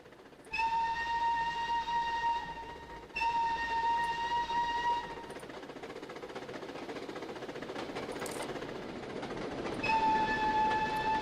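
The Flying Scotsman steam train from the Trainz: A New Era game passes with two long whistle blasts, then steady rumbling rail noise as the coaches roll by, then another whistle blast near the end.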